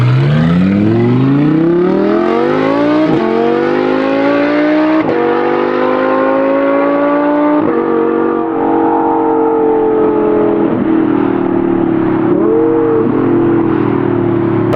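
An Audi R8 with a straight-piped exhaust accelerates hard through the gears, its loud, raw engine note climbing in pitch with sharp drops at each shift, close and dominant throughout.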